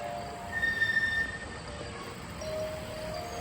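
A Vekoma SLC roller coaster train with new trains runs at Six Flags Darien Lake, a steady rumbling roar with faint squealing wheel tones, heard from a moderate distance with no talk.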